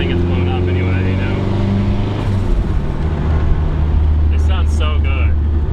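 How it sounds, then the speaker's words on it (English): A Mitsubishi 4G63 engine held under throttle, a loud, close, sustained rev that shifts pitch partway through and keeps droning to the end. "giving it some more throttle because I think it's blown up anyway"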